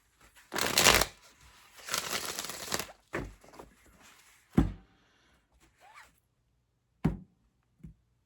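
Tarot cards shuffled in a few loud, riffling bursts, followed by sparse softer card taps and slaps with short pauses between them, close by and without speech.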